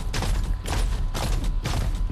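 Gunfire in the battle royale game Farlight 84 comes as a few heavy, rapid bursts of shots in quick succession, loud and booming with little pause between volleys.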